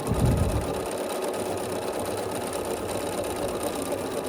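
A sewing machine stitches quilt block strips in a fast, even mechanical whir that carries on steadily and close up after a brief low thump at the start, with no talking.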